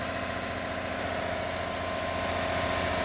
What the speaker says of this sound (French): on accélère un peu le moteur, on voit ça aux alentours de 1000 tours